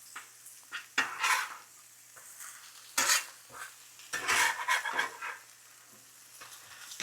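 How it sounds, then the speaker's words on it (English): Shaved cheesesteak meat is turned and tossed on a griddle with metal spatulas, irregular close scrapes and clanks over a low sizzle, several sharp clatters spaced a second or so apart. "Keep turning that meat up real good there. Keep tossing it, keep tossing it."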